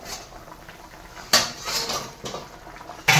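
A lid lifted off a cooking pot of jackfruit kofta curry, with a couple of sharp metallic clanks and a scrape against soft kitchen background noise.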